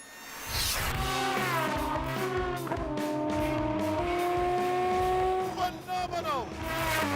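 An Aston Martin Vulcan supercar drives hard, its engine revving in rising and falling harmonic sweeps through gear changes, loud and close, with a voice speaking over it.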